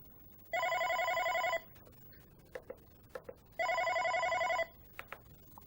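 A Unify OpenStage 40 desk phone rings for an incoming call in two loud electronic bursts of about a second each, separated by a pause with a few faint clicks.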